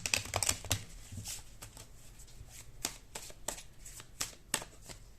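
Tarot cards being shuffled by hand in a quiet room, a quick riffling burst at the start followed by irregular soft slaps and flicks of the deck.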